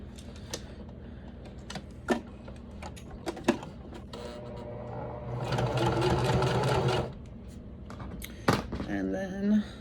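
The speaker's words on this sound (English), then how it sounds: "D-ring, sewing that down" A sewing machine stitches down a D-ring on a bag, a rapid mechanical whir of a few seconds between sharp clicks and handling taps, close up.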